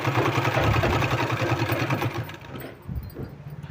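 A sewing machine stitches a kurta seam in a steady, fast mechanical run up close, then slows and stops, leaving a few quieter clicks and handling sounds.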